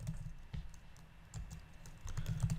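Typing on a computer keyboard while writing code, a run of quick, close, uneven key clicks over a low background hum, soft and without speech.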